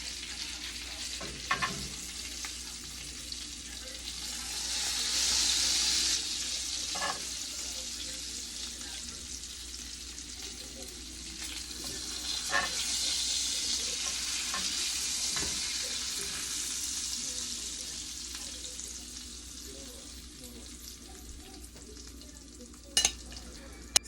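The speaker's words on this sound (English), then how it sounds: "Nice stir on them." Lollipop lamb chops frying with rosemary, garlic and thyme, a steady sizzle in the pan broken by scrapes and clinks of stirring, with a faint trickle of running water and no talking.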